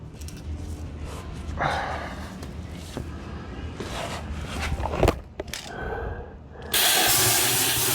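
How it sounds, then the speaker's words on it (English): A handheld plasma cutter cuts thick steel pipe for a dragon sculpture's wing mounts. Quieter workshop clatter and shuffling come first, then a loud, steady, close hiss that holds to the end. "Right here I'm using a handheld plasma cutter to shape the pipe."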